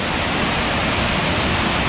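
Steady, loud rushing roar of a big waterfall along the rocky Falls Trail at Ricketts Glen in Benton, Pennsylvania, an unbroken wash of crashing water close by.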